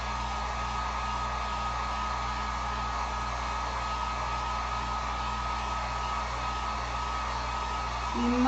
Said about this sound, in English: I'm gonna just hit this with the heat gun for just 1 second here.